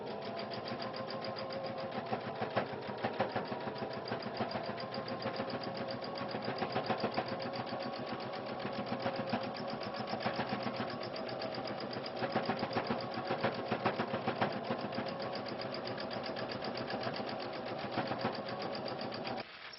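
Sewing machine running steadily while stitching through a quilt with water-soluble stabilizer for machine quilting, a continuous rapid mechanical hum and clatter held at an even level for about twenty seconds with no talk.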